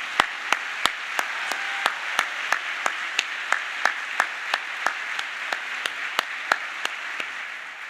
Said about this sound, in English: may I ask you to join me in giving a very warm round of applause to the Brian Sang Quintet.